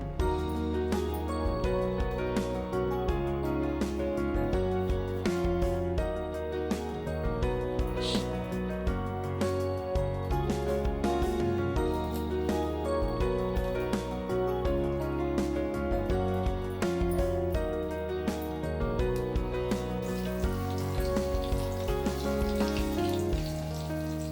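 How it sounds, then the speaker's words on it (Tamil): Masala-marinated fish for a South Indian pepper fish fry crackles in hot oil with a steady, dense sizzle like light rain, continuous throughout beneath background music. "எண்ணெய் சூடானதும் மசாலாவில் ஊற வச்ச மீனை ஒவ்வொன்றா இந்த மாதிரி அடுக்கி வச்சுக்கோங்க"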